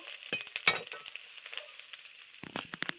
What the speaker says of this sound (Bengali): তো দেখো আমার প্রায় আদাটা ভাজা হয়ে এসছে